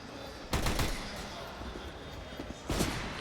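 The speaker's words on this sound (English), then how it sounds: "This is just fine shooting with the Tech 9." Tec-9 pistol shots in a Counter-Strike match on the Train map, heard as two short bursts of gunfire at about half a second and near the end, over a steady hum of game ambience.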